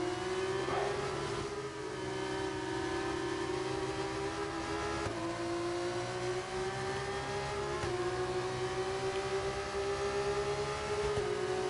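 Race cars in a sim racing game at Las Vegas hold a steady high engine whine that slowly rises in pitch, with a few gear-change dips. Several engines blend together at moderate volume, with no talk.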